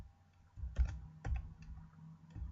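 A few quick computer keyboard keystrokes, a semicolon and then Shift with Enter, typed into the Maxima math program: three or four close, distinct clicks in a quiet room.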